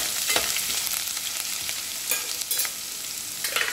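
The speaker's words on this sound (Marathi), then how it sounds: "ते थोडं परतून घेऊन लाल होईपर्यंत परतायचं ते।" Ginger and garlic, crushed to a paste in a mortar, fry in a pan for a biryani. There is a continuous close sizzle broken by scraping stirring strokes, with no talking.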